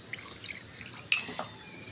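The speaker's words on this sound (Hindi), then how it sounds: "थोड़ा सा पानी हम इसमें डालेंगे" A little water trickles and drips into a tablespoon of cornflour in a bowl while making soup, with faint light drops and one sharper splash, close and quiet.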